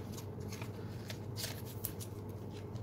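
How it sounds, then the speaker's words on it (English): Cardfight!! Vanguard trading cards slide into protective sleeves, a soft, close, continuous rustle and swish of plastic and card with faint brighter flicks. "and put these cards in sleeves."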